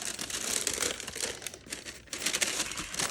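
Stüssy-branded design tissue paper being unwrapped from a Nike Air Max 2013 sneaker box, giving close, continuous crinkling and rustling with a brief quieter pause midway.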